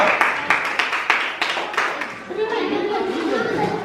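Classmates clapping for a student group, several rhythmic claps that fade out before voices and chatter take over in the room.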